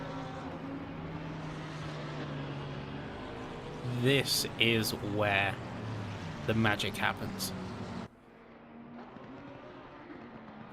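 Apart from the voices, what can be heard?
race cars passing by at Silverstone, from a racing video game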